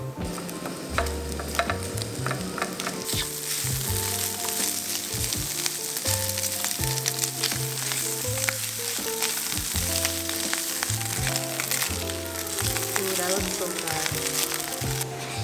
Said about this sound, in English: Let's cook up our cubed spam.